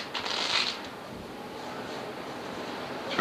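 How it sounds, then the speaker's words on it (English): A deck of playing cards is shuffled during a card trick, a short riffling burst at first followed by steady soft rustling, close by, with no voices. "I'm going to shuffle the cards once this way."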